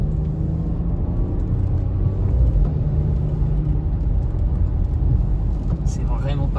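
A Porsche Macan S engine hums and rumbles steadily from inside the cabin while driving on the road, a low continuous drone with faint whirring.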